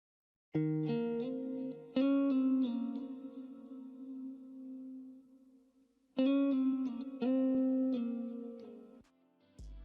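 An electric guitar plays a bright melodic line with chorus, echo and reverb, notes ringing out in two phrases separated by a sustained tone.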